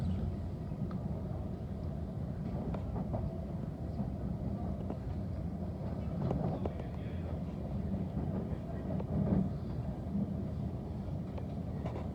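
A London Overground train runs along the rails between Highbury & Islington and Clapham Junction, a steady faint rumble with light rhythmic clatter and occasional squeals throughout.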